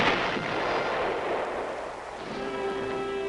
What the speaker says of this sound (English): And from the ground as giant 8-inch howitzers reinforced the air-mobile batteries.